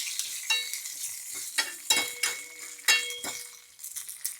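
Chili dropped into hot oil with mustard seeds in a pan while cooking taro leaf curry, hissing and crackling in short sizzling bursts with a few stirring scrapes, close and fairly loud, no talking.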